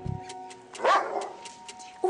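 A dog-like beast in a tunnel lets out a single short bark over a steady tonal hum, with faint ticking sounds around it.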